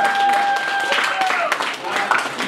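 Wedding guests break into applause, a dense patter of clapping that carries on steadily with voices mixed in and a pair of sustained tones sounding over it early on.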